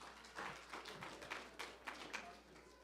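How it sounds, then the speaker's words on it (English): Applause from a small audience at a church event, quiet, with a smattering of separate claps over a few seconds and no voices over it. "Give Janet another round of applause"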